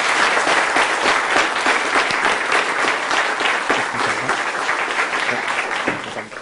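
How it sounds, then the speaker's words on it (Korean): A lecture-hall audience of university students gives loud, sustained applause to a company vice chairman after his CEO lecture, dense clapping from many hands filling the room for several seconds. "지금까지 값진 강의해 주신 허원준 부회장님께 큰 박수 부탁드립니다."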